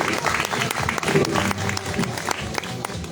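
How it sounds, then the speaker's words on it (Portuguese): An audience at a Lisbon–Hamburg memory project celebration claps together in a dense, steady round of applause that lasts about three seconds, with some voices mixed in. "Palmas."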